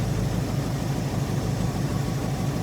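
A Dodge Charger V8 fitted with a new carburetor idles steadily, a close, loud, low rumbling engine note with an even pulsing rhythm and no voices.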